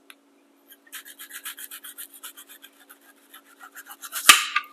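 A dull kitchen knife thinly slices a salad ingredient in a quick run of about twenty rasping strokes, close and fairly quiet. It ends with a sharper knock.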